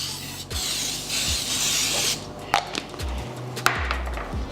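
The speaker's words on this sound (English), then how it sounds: "now you want to get yourself some non-stick spray." Non-stick cooking spray hisses from an aerosol can in a home kitchen while making ranch style beans and corn bread, with one sustained spray burst and then a second, followed by clunks and knocks of utensils nearby.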